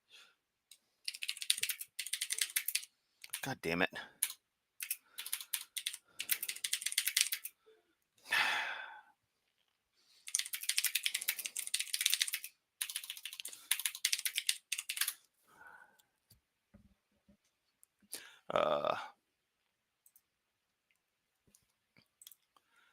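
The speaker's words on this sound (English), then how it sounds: "Give me a moment as my keyboard flips out again." Bursts of fast, close typing on a computer keyboard, several clustered rattling runs separated by silences, with a short muttered curse and a sigh between them.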